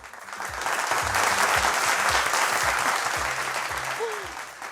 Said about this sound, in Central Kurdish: کوا چەپڵەکانتان